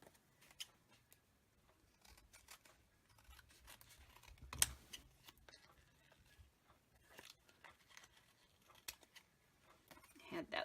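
Scissors trimming paper, cutting through a small sticker on the back, make quiet, sparse snips and light rustles scattered over a near-silent background.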